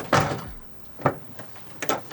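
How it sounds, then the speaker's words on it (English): A car door on a project Ford Falcon AU, after its child lock actuator was repaired, clunks open with a latch click and a couple of follow-up knocks, close and loud with no talk. "A door that opens."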